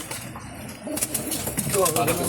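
Racing pigeons in a flying loft cooing in repeated low rolling calls close by, with light wing flutters and chirps, while someone talks over them.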